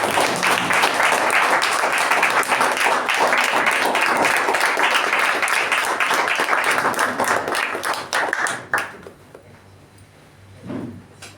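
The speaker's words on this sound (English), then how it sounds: "They have a huge round of applause for them." A meeting audience claps in dense, sustained applause for several seconds, then the clapping thins out and fades to near quiet.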